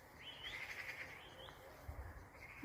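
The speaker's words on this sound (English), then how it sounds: "The birds are everywhere." Birds calling among the trees on a bright summer day, a faint, fairly distant chirping call with a rising whistle-like tone over quiet outdoor background, no talking.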